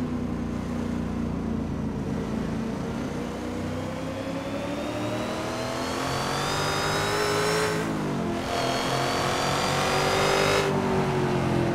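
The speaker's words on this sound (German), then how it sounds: "Der klingt ein bisschen raciger als der normale V8-Sound vom Mustang." Ford Mustang Boss 302 V8 tuned to 650 hp racing in Assetto Corsa at Laguna Seca, a loud continuous engine roar climbing steadily through the revs with brief dips at gear shifts, alone without talk.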